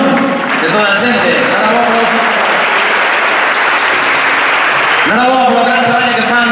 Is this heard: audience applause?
yes